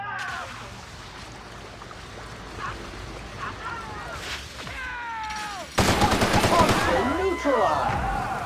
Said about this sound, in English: My machine gun is ready.